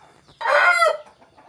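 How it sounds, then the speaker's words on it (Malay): A single loud, harsh chicken call rings out for about half a second, close by, with quiet background before and after. "Tengok ayam dia"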